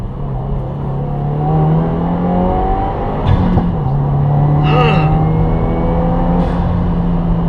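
A 2016 Subaru WRX with a COBB Stage One tune and Nameless axle-back exhaust pulls hard under load, engine note climbing steadily before a brief dip at a gear change, then rising again, loud and close from inside the cabin.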